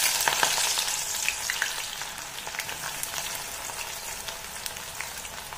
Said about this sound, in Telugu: కొంచెం నెయ్యి కొంచెం క్వాంటిటీ కొంచెం ఎక్కువ చేస్తుంది కనుక కొంచెం ఎక్కువ వేస్తుందండి దీంట్లోకి ఆనియన్స్ వేసేసుకుందామండి ఇప్పుడు